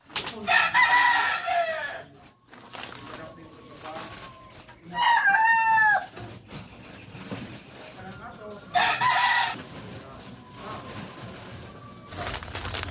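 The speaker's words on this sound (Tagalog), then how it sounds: "yung voice over ko sometimes may manok talaga na background" Roosters crow loudly in bursts, three long cock-a-doodle-doos with gaps between, while hens cluck and farm noise continues in the background.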